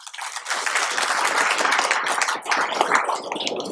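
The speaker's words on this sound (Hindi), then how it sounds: "जोरदार तालियां करिएगा जो है" Audience applause at an Ambedkar birthday programme held by the CPWD SC/ST association, dense continuous clapping from a crowd, fairly close and loud, sustained for several seconds with no talk over it.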